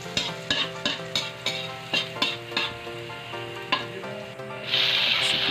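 Garlic being sautéed in leftover frying oil crackles under a steady sizzle, punctuated by a rhythmic series of sharp spatula strikes against the pan, then a louder, brighter hiss swells near the end; close and with no talk.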